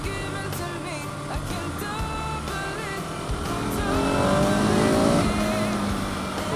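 An enduro motorcycle being run in pulls in third gear along country trails in the Molignée valley, its engine note climbing steadily and growing louder as it accelerates, with no talk.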